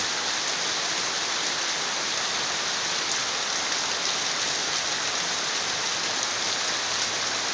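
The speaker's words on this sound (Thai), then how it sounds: "เพราะว่าฝนเริ่มเทลงมา" Heavy rain pours down in a dense, even hiss that holds steady and fairly loud from start to finish, with no voices.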